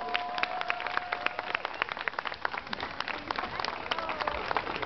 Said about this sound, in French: On peut encore les applaudir très fort.